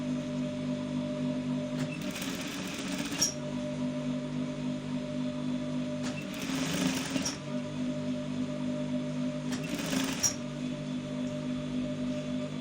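A sewing machine runs three short bursts of stitching along the seam of sweatpants joggers, each lasting about a second and spaced evenly apart, over a constant low mechanical hum.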